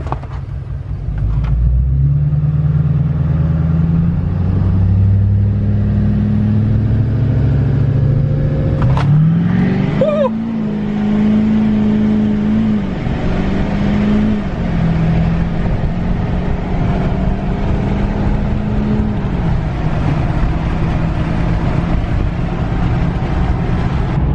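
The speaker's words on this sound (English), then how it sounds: "This is the 4-wheel drive launch right here." A 2012 Chevrolet Duramax diesel truck running about 46 psi of boost makes a four-wheel-drive launch. A heavy, close diesel drone builds and climbs steadily in pitch and holds a loud, sustained roar.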